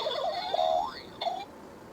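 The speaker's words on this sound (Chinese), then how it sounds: "它是一个逗趣的音效。" A children's educational toy phone plays a funny smiley-face button sound effect: a short, whimsical electronic warble that slides up in pitch, then a brief second chirp, close and clear with no talking.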